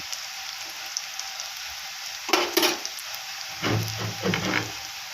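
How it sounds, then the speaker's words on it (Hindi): Onions fry in oil with curry leaves and mustard seeds, a soft background sizzle broken by a few louder bursts of spattering and stirring clatter near the end. "प्याज डाल को भून लेना, करिया पत्ता भी डाल को हूँ, राया भी डाल को हूँ।"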